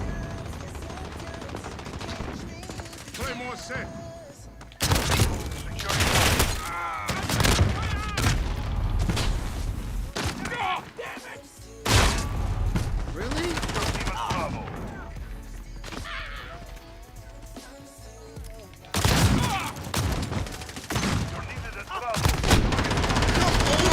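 Bursts of gunfire from a first-person shooter game, including close shotgun blasts, come in several loud clusters separated by quieter stretches, with voices talking in between.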